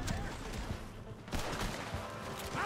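Gunfire from a shootout in Red Dead Redemption 2, several close, sharp shots in quick succession over a steady background rumble.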